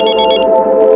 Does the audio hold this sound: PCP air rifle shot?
no